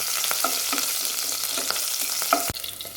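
Cumin, garlic, ginger and green chili sizzle and crackle steadily in hot oil while being stirred for Kerala-style palak paneer, close and continuous.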